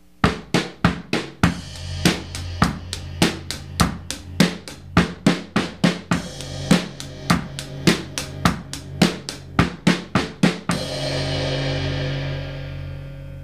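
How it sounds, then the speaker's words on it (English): Acoustic drum kit playing a fast single stroke roll fill, about thirty evenly spaced loud strikes across the drums with bass drum underneath, ending on a ringing crash cymbal that sustains and fades. "Up to speed, it would sound like this."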